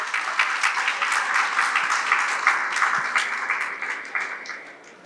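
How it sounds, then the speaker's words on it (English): Audience applause at a housing project grand launch, many individual claps distinctly audible in a lively crowd that gradually thins and fades toward the end. "Please give them a big round of applause."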